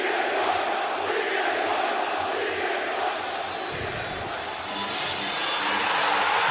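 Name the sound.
wrestling show crowd in Chicago cheering loudly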